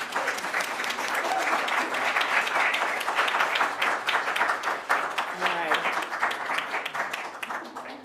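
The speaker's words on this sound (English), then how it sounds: "Join me again in another round of applause." Congregation applause during a church worship service, dense and loud clapping from many hands filling the room, with a few voices faintly heard beneath it.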